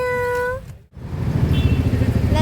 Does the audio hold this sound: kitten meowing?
yes